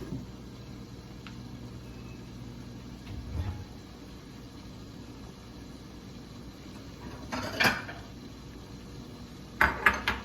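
A lid set over a pot of cooking tomatoes gives two brief metallic clatters, one in the middle and one near the end, against a quiet kitchen background with a low hum early on.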